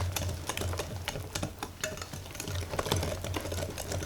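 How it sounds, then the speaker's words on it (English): Whisking sugar into melted chocolate for cannabis cheesecake brownies gives fast, steady scraping clicks of a whisk against a bowl, repeating closely over a low constant hum, with no talking. "take our can of sugar and we're just gonna whisk that into our chocolate."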